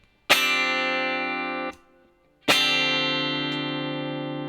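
Two clean electric guitar chords from a Line 6 Helix ring out one after another, each sustaining with a soft reverb tail and a brief pause between.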